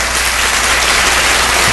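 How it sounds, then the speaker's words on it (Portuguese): A church congregation claps during a service, a loud, dense and continuous burst of applause from many hands, heard alone without speech. "Então dê uma salva de palmas para Jesus"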